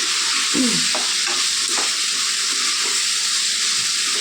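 Tomatoes and tamarind frying in a hot pan make a loud, continuous sizzle and hiss, with a few brief stirring scrapes near the start.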